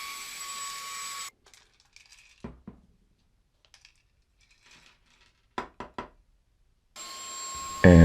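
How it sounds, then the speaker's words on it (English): A 2-in-1 electric air blower and vacuum blows small pebbles; its steady whine cuts off, scattered light clicks and rattling taps of stones follow, then the blower's loud whine starts up again. "this thing blows these pebbles away quite well"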